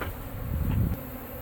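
A dense swarm of honeybees roars steadily during a night-time removal from a mobile home in Lakeland, Florida, the buzzing hum swelling briefly louder midway before settling back.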